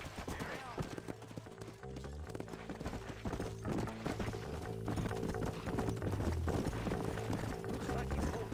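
Horses gallop in the video game Red Dead Redemption, a quick, steady clip-clop of hooves running throughout alongside game music and voices.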